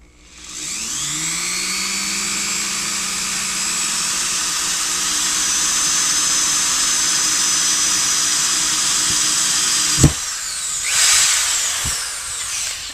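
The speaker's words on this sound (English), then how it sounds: "So, no drill press, I use Chinese drill." An electric drill whirs up to speed and runs at a steady high whine for about ten seconds, then stops, followed by a few clunks.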